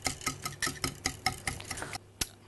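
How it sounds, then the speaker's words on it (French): A fork or whisk mashes cooked, browned courgettes in a bowl, making a steady run of sharp, regular scraping taps, close and distinct, about four per second, then a short pause and one last tap. "on va les écraser à l'aide d'une fourchette ou d'un fouet"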